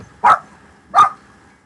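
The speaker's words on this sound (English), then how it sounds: "that's the dog yelling at something." A dog barks twice, indoors and close, with two sharp single barks spaced about a second apart.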